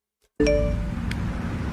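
A phone alert chime rings once, a bright ringing ding that lingers briefly over a low background hum.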